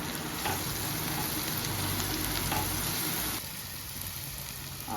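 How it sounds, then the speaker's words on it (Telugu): Biryani masala for paneer biryani fries in a hot pan, a steady loud sizzle broken by scraping stirs that quiet slightly toward the end. "బాగా కలిపి వేయిస్తే మసాలాలు చక్కగా పట్టి మంచి రుచి వస్తుంది"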